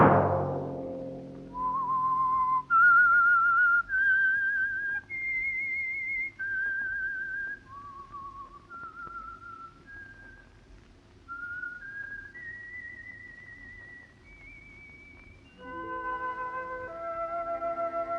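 A clear, tuneful whistled melody of held and gliding notes, played alone and close.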